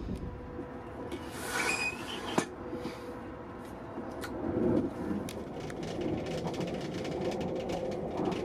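A train rumbles steadily along with a constant low roar, occasional clanks and squeals from the wheels, heard from inside a Caledonian Sleeper carriage.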